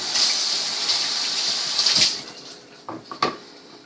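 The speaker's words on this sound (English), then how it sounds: "Make sure you rinse them really well." Water runs from a kitchen tap as vegetables are rinsed for chicken fried rice, a steady loud gush that stops near two seconds, followed by a few brief splashes and clinks.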